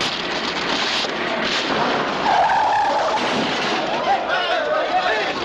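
A car with no brakes skids to a stop in a 1939 film, a harsh screech and rumble of sliding tyres over a noisy old soundtrack.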